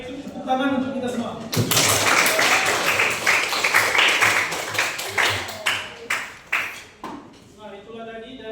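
An audience of students at a school session bursts into loud, dense applause after a short spoken line, holds it for several seconds, then thins into a few last claps before talking resumes.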